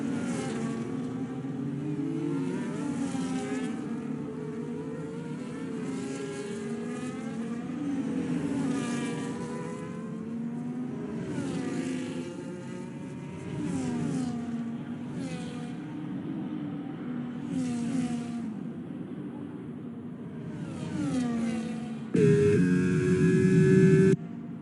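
F1 race cars in a Saudi race video game scream past in succession, their high whining engines sweeping up and down in pitch with repeated passes, ending in a louder burst of engine noise.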